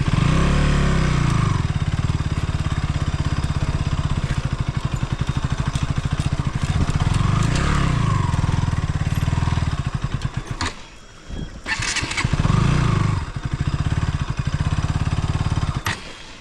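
A motorcycle ridden along a muddy rural road near Suryachaur, Nuwakot, Nepal, runs loud and close with a steady engine drone and throttle swells, briefly dropping off around the middle before picking up again.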